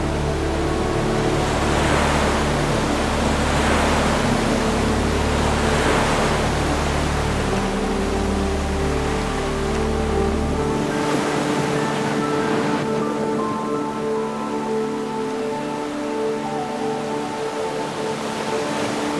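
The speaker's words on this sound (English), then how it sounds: "The crashing waves and cleansing wind drew us down to the tide" Ocean waves and wind at the shore near the Cape of Good Hope, a steady loud roar with surges of crashing surf, the low rumble easing after about eleven seconds.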